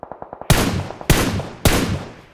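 Gunfire in the video game PUBG: a quick burst of small pops followed by three loud, sharp shots spaced about half a second apart, each with a short ringing tail.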